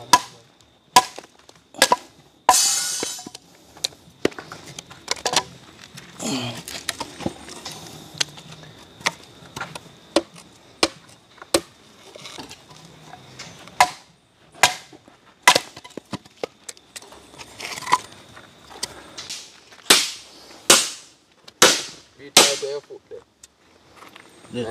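Logs are split by hand outdoors, giving a series of sharp, loud, close cracks and chops at irregular intervals, some clustered quickly, with quiet gaps and faint background noise between strikes.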